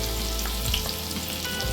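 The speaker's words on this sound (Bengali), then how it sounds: "রসুনটা একটু ভাজা ভাজা যেই হয়ে যাবে" Chopped garlic and ginger sizzle in hot oil in a pan while a chicken dish is cooked, a steady, close frying hiss with small crackles throughout.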